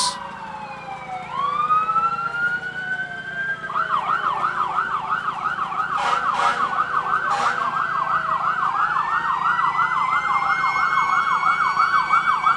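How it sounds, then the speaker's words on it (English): Hicksville Fire Department truck siren in a sesquicentennial parade, a rising wail that settles into a steady rapid yelp, loud and fairly close, with a few short horn-like blasts midway and road rumble underneath. "there comes the Hicksville Fire Department"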